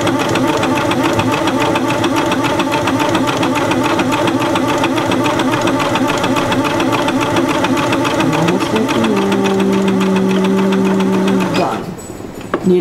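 A sewing machine stitching a quarter-inch quilting seam runs at an even, steady pace with a continuous rapid mechanical chatter, close and loud, then stops abruptly near the end.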